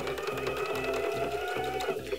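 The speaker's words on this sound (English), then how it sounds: "make sure you have your machine set to a straight stitch" A sewing machine running a straight stitch through sweater fabric, a steady close mechanical whir with a regular rapid needle chatter throughout.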